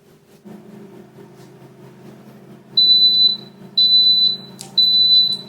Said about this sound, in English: you hear that sound, it's preheated and the blinking is off